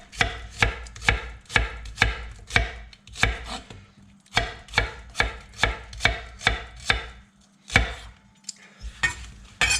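A knife slices an onion on a cutting board during beef stir-fry prep, giving a quick, steady run of close, crisp chops with a brief pause midway.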